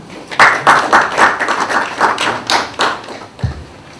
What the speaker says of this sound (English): If you agree with me, please clap for yourself.